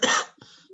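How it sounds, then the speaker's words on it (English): A single harsh smoker's cough from a woman, one loud burst followed by a softer rasping tail and a brief throat sound, close to the mic with no talk. "Sorry, I'm coughing. Smoker's cough again."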